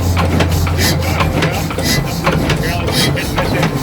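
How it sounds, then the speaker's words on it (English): Engine exhaust from a vehicle rumbles loud and close, a steady low drone with rapid pulsing bursts throughout and no break. "you're hearing the exhaust out here"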